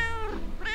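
A cat meows once, a short close, clear call rising and falling in pitch, with nothing else heard.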